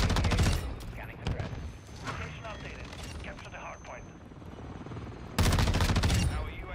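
Tempus Razorback rifle fire in Modern Warfare 2: a loud rapid burst at the start and another near the end, with someone talking in the quieter stretch between.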